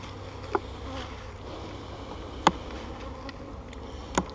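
Honeybees in an opened hive during a spring inspection keep up a steady, close, low droning buzz, broken by three sharp, brief clicks spaced a couple of seconds apart.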